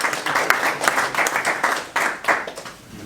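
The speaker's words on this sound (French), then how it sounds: "Je pensais que j'allais avoir des applaudissements." A small group applauds during a French-language business process automation demo, giving a brief, uneven burst of clapping with audible individual claps that thins out near the end.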